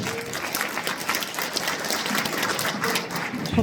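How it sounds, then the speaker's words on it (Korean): Audience at a lawmaker's public report meeting applauds, dense steady clapping from many hands lasting a few seconds, close and full. "박수 한번 보내주세요."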